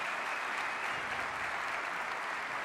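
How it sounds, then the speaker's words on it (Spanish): Audience applause at the close of a conference lecture, a sustained, even wash of many hands clapping at moderate volume without pauses or speech. "Nosotros lo despedimos con un cálido aplauso."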